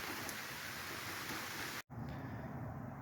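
Steady, dense rain hiss, fairly loud and continuous, with a brief dropout partway through before the downpour resumes.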